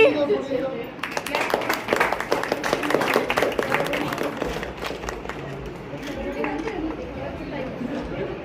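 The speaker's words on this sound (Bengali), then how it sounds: "হাততালি" Guests at a childhood friend's engagement party break into a burst of hand clapping that swells for a few seconds and then fades, with crowd chatter and voices talking over and after it.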